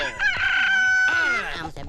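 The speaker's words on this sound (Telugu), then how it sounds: "కోడి కూసిందెక్కడ" A rooster crows loudly and close by, one long drawn-out call with a rising start and a sustained, wavering tone.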